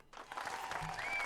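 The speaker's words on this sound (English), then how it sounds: "I believe a round of applause is in order." Applause from an in-game crowd in Fate/Grand Order, greeting the new Wandering Sea Chaldea base: a dense, steady wash of clapping that starts abruptly and holds at even loudness for just over a second.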